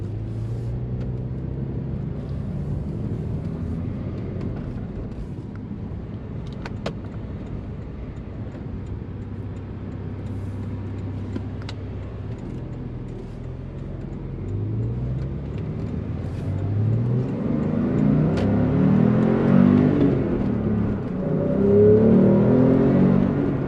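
Porsche 911 pulling away in first gear and accelerating hard into second, a steady low engine drone rising to a louder, harmonic-rich surge toward the end, heard from inside the car with no talk.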